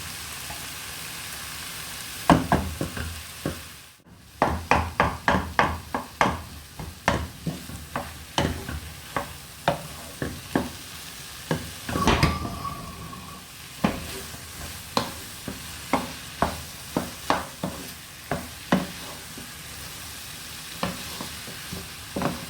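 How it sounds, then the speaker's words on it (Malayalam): Spoon strokes mix a filling of minced chicken breast and capsicum in a pan, with steady rhythmic scraping and stirring that repeats close up at roughly even intervals after a brief pause near the start. "നല്ലോണം മിക്സ് ചെയ്യാം"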